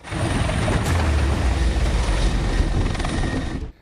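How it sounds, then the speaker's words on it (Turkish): Loud, steady thudding roar of a coast guard rescue helicopter's rotors and engine, close and continuous, then cutting off abruptly at the end. "Devreye sahil güvenlik helikopteri girdi."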